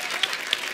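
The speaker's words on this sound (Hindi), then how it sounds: "मैं आपको बोली थी ना ताली बजाने की, ताली" An audience on a television comedy show claps in a short, dense burst of hands that lasts under a second.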